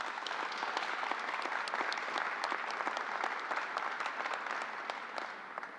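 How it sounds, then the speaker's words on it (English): Sustained applause from an audience at a New York governor's press conference, steady dense clapping filling the whole stretch and tapering slightly at the end. "let's give a round of applause to all New Yorkers"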